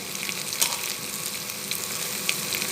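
Steady oil sizzle of chili powder frying in a hot pan after garlic, a continuous crackling hiss with a few brief louder spits, no voices.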